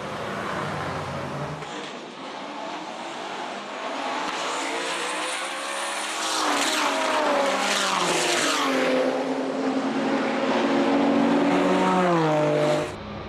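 Several BMW club race cars in a Class A, B and C race accelerate off the line together, their engines rising from a steady idle to a loud, layered roar of climbing revs and gear changes, with no talking.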